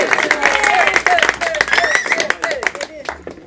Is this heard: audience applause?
yes